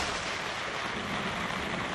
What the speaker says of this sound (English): A tropical storm suddenly erupts over Kuala Lumpur.